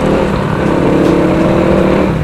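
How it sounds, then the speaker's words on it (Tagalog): A Motorstar Idol 110 motorcycle with a 110cc engine revving close by, a loud, steady buzzing drone with a slight rise in pitch, no talking over it. "Ito yung Motorstar Idol 110. Oo guys, 110cc to."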